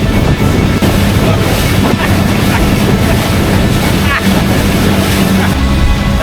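A jet boat speeds across Sydney Harbour, its engine roaring close and loud with steady rushing water and hull noise throughout, while voices talk faintly underneath.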